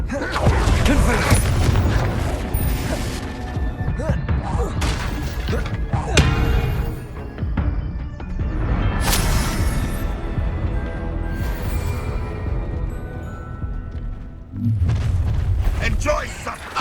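Confringo spell blasts in the Hogwarts Legacy video game boom and crash again and again through a hectic duel, loud and dense, with voices shouting over the impacts.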